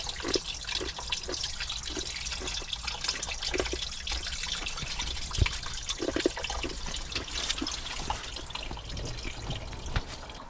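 Stream water running beneath rocks in a cold, icy valley, a steady soft trickle and gurgle with scattered drips, continuous and fairly faint with no voices.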